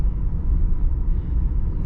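A 1997 Lincoln Town Car Cartier rolls over a patched road, giving a deep, steady low rumble of tires and cabin noise with soft irregular thumps and no talk.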